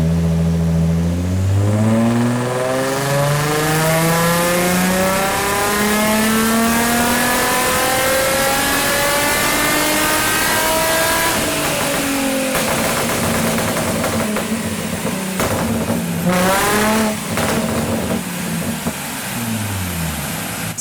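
A remapped Nissan 350Z with a pop and bang map revs hard, its exhaust note sweeping up in pitch and dropping back repeatedly, loud and close, with sharp crackles on the overrun and no voices.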